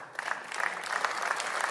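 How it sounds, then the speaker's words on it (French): Applause from an audience at a French political rally, a dense, steady clatter of many hands clapping without break, fairly loud and building slightly, with no speech over it. "c'est gentil de les applaudir"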